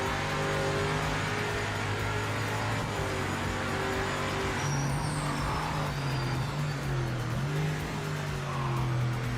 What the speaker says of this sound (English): That LMP behind me's got some horsepower. That thing just runs up on me in the straights.